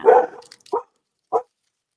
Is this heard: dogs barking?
yes